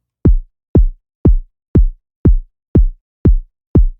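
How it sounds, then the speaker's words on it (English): Eight evenly spaced kick drum hits from a basic sine wave with a pitch envelope, each a deep clean thump sweeping down into a short low boom, loud and isolated with silence between beats. "I've got a basic sine wave kick drum which is made using a sine wave and a pitch envelope"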